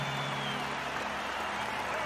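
A stadium crowd of about 50,000 people cheers in a steady, dense roar with applause-like texture, moderately distant and continuous without breaks.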